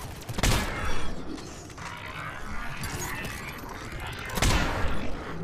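A Javelin sniper rifle fires in Mass Effect 3 multiplayer, two heavy booming shots each followed by a mechanical rattling and whirring, with game noise in between.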